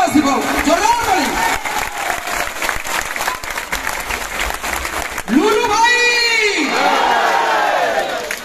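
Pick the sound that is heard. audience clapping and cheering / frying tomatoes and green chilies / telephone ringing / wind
audience clapping and cheering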